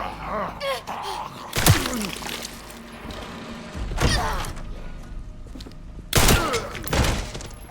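Gunshots in the video game Resident Evil Requiem: three sharp, loud shots spaced a couple of seconds apart over a quieter, rumbling game soundscape.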